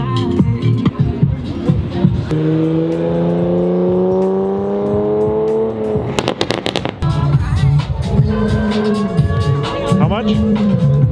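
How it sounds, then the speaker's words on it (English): A Mazda 3 with an aftermarket exhaust revs up in a rising, droning whine, then crackles and pops from the exhaust before revving again, with people talking over it. "That's Colton's Mazda 3. An exhaust."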